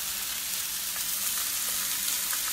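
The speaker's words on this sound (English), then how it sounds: "I chose to use a 12-inch skillet for this because I want it to be able to spread out and brown those vegetables" Zucchini, summer squash and carrots sizzle steadily in a 12-inch skillet, giving a close, continuous crackling hiss of frying vegetables with no talking.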